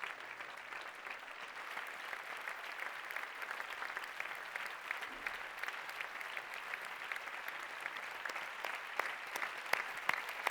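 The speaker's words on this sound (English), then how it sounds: "Let's give a huge round of applause for an amazing session." A sustained, fairly faint round of applause rises from the audience of a youth summit plenary session on peace and conflict. The steady clapping runs throughout with no clear voices over it.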